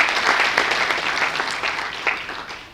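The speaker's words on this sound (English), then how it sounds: "Let's give a big hand. Round of applause to yourself." Audience applause at the opening ceremony of an entrepreneurship event, a steady wash of clapping that gradually fades, with little talk.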